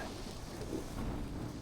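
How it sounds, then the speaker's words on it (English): Heavy rain drums steadily on a tent at a Lido di Dante campsite in Italy during a thunderstorm, a dense low rumble and constant patter, close and unbroken. "we had a horrendous storm come through"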